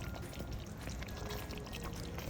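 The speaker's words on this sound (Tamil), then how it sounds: "இப்போ நான் இதை வடித்து எடுத்துக்கிறேன்." Liquid pouring steadily as cooked chicken for biryani is strained, a continuous close splashing stream lasting a couple of seconds without talk.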